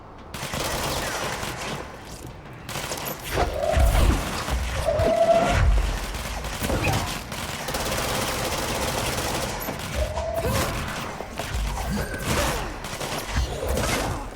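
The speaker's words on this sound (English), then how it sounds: "Stop shooting me with bullets, it hurts!" Bullets strike the player during a firefight in the video game Control, a loud, dense run of rapid gunfire and impacts that rolls on continuously, with boomy bursts and swelling tones mixed through.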